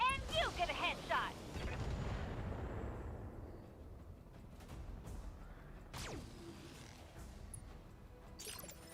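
BattleTech mechs fire their weapons in the 2018 video game, with a heavy booming volley at the start, a low rumbling tail, then a few sharper blasts later, partly under a player's talk.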